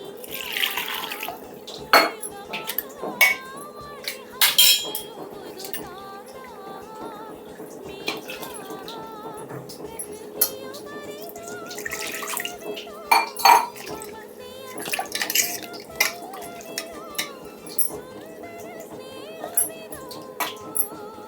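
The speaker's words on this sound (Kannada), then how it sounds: "ಇದಕ್ಕೆ ನೀರು ಬರೀ ಜಾರ್ಗೆ ಹಾಕಿ ನಾನು ತೊಳೆದು ಹಾಕ್ತಿದ್ದೀನಿ" Water sloshes and splashes inside a blender jar being rinsed while dishes and utensils clink intermittently nearby.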